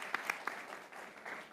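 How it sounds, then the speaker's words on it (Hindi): Faint applause in a cricket talk-show studio, a few sharper individual claps up front, then thinning into a soft, scattered patter. "तालियां, बहुत बेहतरीन परफॉर्मेंस"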